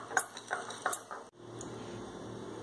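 A spoon stirs sugar into banana cake batter in a bowl, giving a few close, clinking scrapes against the bowl at the start, then a softer, steady mixing sound with no talking.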